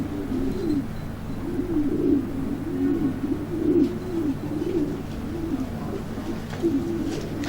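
Racing pigeon cooing close by, a steady run of soft, low rolling coos repeating every second or so over a constant background hum, no talking.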